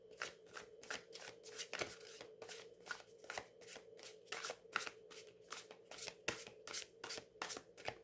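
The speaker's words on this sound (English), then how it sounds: "I'm a clumsy overhand shuffler, but that works fine" Tarot deck cards riffled by hand in a clumsy overhand shuffle, a steady run of crisp papery slaps and flicks repeating about twice a second, close and fairly quiet with no talking.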